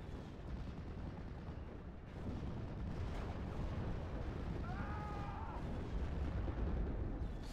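Continuous artillery barrage in Steel Division: Normandy 44, distant booming shell impacts rolling one after another over a constant low rumble, with faint whistling in the middle.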